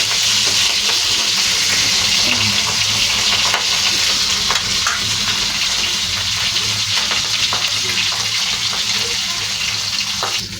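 Fish fries loudly in a pan of hot oil, a dense continuous sizzle and spatter that stays close and steady throughout with no voices.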